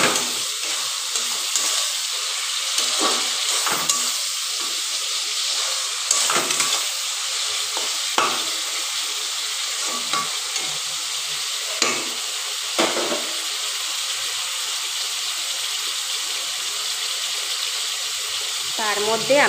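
Chopped tomato frying and sizzling in a pan for a chicken curry, with a steady hiss and occasional scrape and clatter of stirring throughout.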